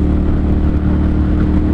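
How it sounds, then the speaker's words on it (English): A 2014 Ducati Monster 1200S motorcycle engine revving: a loud, steady, close-up rumbling drone that holds level for under two seconds, with no talking. "this bike sounds freaking amazing"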